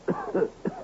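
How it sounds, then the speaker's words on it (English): A heavy cough staged as a sound effect in an old-time radio mystery drama, three short harsh bursts in quick succession, near and fairly loud with no talk over them. "And I have been conscious of your heavy cough."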